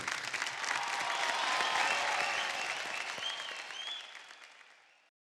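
Loud, sustained applause from a large studio audience at the TV dance show India's Best Dancer Season 3, steady clapping that swells and then fades out near the end.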